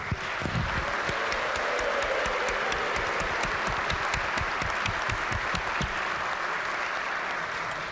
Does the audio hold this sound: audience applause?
yes